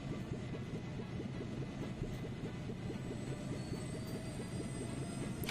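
A large airship in the game Trails in the Sky lifts off with a steady, low mechanical rumble and whir, faint and continuous, with no talk over it.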